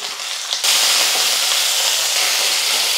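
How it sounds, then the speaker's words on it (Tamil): Peanuts, green chillies, curry leaves and mint frying in hot oil for a Karnataka-style sponge dosa, a loud, steady close-up sizzle that jumps up sharply as the ingredients hit the oil and then holds a continuous crackling hiss. "இந்த வேர்க்கடலை கூட எண்ணெயில் வந்து நல்லா வதக்கிக்கலாம்."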